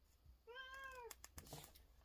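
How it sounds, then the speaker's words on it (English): A house cat gives a single clear, drawn-out meow at close range, rising and then falling, followed by a few soft clicks and rustles in a quiet indoor room. "My cat's hopping in my lap to join here."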